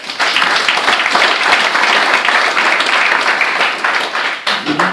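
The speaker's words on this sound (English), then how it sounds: "let's give them a round of applause." Audience applause at a political candidate forum in Alamosa, a dense, steady burst of many hands clapping that holds loud for about five seconds before easing slightly at the end.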